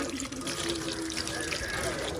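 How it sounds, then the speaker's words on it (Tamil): Tap water running into a sink while hands are washed at an old-age home, a steady close hiss and splash of flowing water with faint speech in the background. "தண்ணியை திறந்து கையை கழுவுவோம்"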